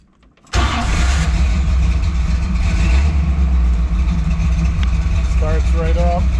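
A restored 1979 Jeep CJ-5 Renegade with a V8 and dual Flowmaster exhaust cranks and fires almost instantly, then settles into a loud, steady, rumbling idle close by.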